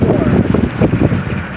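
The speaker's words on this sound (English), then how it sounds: "Sorry for this wind, but" Wind buffeting an outdoor microphone during a storm-watching session under distant derecho clouds, a loud, continuous low rumble with gusting swells throughout.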